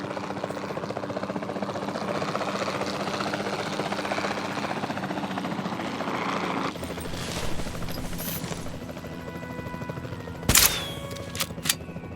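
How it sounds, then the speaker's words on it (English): A helicopter engine drones steadily in the Jurassic World Evolution 2 video game during a dinosaur tranquilizing run, then sharp gunshot-like cracks and bursts follow near the end. "We'll start by tranquilizing one of the dinosaurs from the helicopter"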